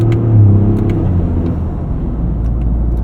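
The 1.6-liter turbocharged three-cylinder engine of a 2025 Toyota GR Corolla with an 8-speed automatic pulls hard under acceleration, a loud steady drone from inside the cabin whose pitch drops briefly as a gear changes, with no talk.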